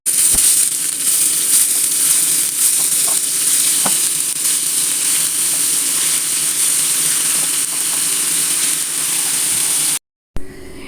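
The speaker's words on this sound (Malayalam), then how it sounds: "അതിലേക്ക് ഓരോ മീനിട്ടിട്ട് നമുക്കൊന്ന് വറുത്തെടുക്കാം." Fish fry in hot coconut oil in a pan with a loud, steady sizzle and occasional crackles and stirring scrapes, then the sound cuts out abruptly near the end.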